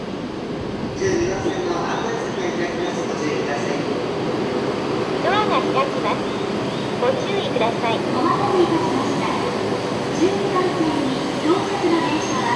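Shinkansen bullet train at a station on the route from Misawa to Tokyo, with a steady loud rail and platform rumble, some brief squealing tones and busy station ambience, and no clear talking.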